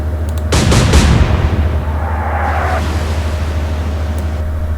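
Naval guns in the Atlantic Fleet naval warfare game fire in a quick cluster of heavy booms, followed by a fading rumble and a faint distant hiss.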